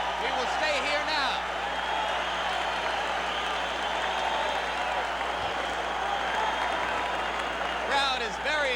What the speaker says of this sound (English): Crowd is very excited.